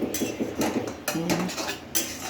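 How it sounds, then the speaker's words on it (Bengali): A pot lid lifted off boiling jute leaves gives a few close metallic clinks and scrapes over a low bubbling background, with no talking. "এখন আমি ঢাকনাটা খুলে দেখি কেমন সেদ্ধ হয়েছে"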